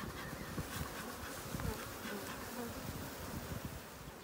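Honey bees buzzing steadily at an open hive, a dense, continuous drone of many insects at close range, faint overall with no talk.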